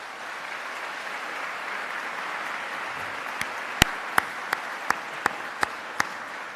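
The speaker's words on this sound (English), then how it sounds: "Please give them a round of applause." At a university engineering PhD commencement ceremony, a large audience applauds faculty advisors with a broad, even wash of distant clapping. Several loud, distinct claps from someone nearby stand out toward the end.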